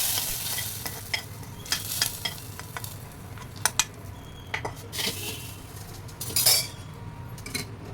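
Fried coconut is tipped into a pot of payasam and stirred, giving a soft simmering hiss under intermittent clinks and scrapes of a metal spoon against the vessel, close by.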